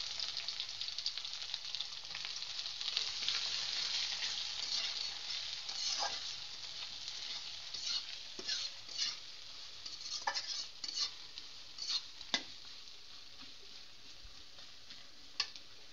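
Chopped onions and whole cumin fry in hot oil, giving a steady, close sizzle. Scattered scrapes and ticks from stirring grow more frequent toward the end, with no voices.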